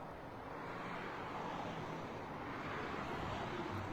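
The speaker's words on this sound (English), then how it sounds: "what I'm hearing is road noise, traffic noise" Distant road traffic makes a steady, low, broadband rumble and hiss at night, faint and unbroken throughout, with no distinct passing vehicle or voice standing out.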